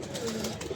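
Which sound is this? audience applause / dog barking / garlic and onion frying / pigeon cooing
pigeon cooing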